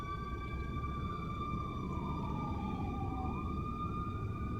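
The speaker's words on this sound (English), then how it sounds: "I'm going to let this ambulance pass by." A wailing ambulance siren sounds in the distance, its tones sliding and gently falling as it passes, over steady background rumble.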